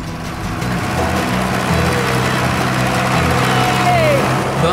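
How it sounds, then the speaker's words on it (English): A 1950s diesel-powered Fordson tractor engine runs with a loud, steady low rumble close by, holding a constant note throughout, and a voice talks over it. "Dick's kindly lending me his very own 1950s diesel-powered Fordson"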